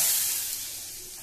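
Hot tempering (tadka) sizzles loudly as it is poured into cooked lentils, a bright hissing burst that fades steadily over about a second.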